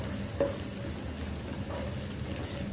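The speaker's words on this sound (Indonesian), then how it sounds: "Nah ini tumis cabenya sampai jadi barengan si matanya, bawang putih, bawang merah sama cabenya. Nah ini dioseng-oseng aja kayak gini." Chili, garlic and shallots stir-fried in a pan, giving a steady close sizzle with soft stirring movements throughout, no talk.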